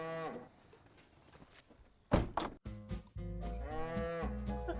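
Wagyu cattle on a Miyazaki farm in Japan moo repeatedly, with long, drawn-out bellowing calls that rise and fall. The calls are loud and close, over steady barn noise, with no talking.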